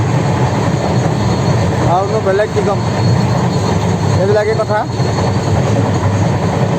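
A steady, heavy rumble of a moving Vivek Express train heard from inside the carriage, with a person talking over the continuous noise.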